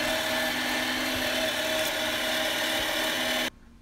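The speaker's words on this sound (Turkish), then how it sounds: "ikinci kere de kıyma makinesinden kıymamı bu şekilde geçirdim" A meat grinder runs ground meat through a second time for halloumi and pistachio sucuk, giving a loud, steady mechanical whir that holds constant and then cuts off abruptly just before the end.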